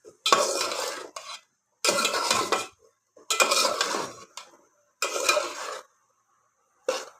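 Cauliflower is stirred in a pan for a fish curry, with four bursts of scraping, clattering utensil strokes separated by short silences, close and fairly quiet, with no talk.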